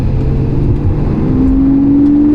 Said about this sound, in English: Oh, there's those active exhaust valves.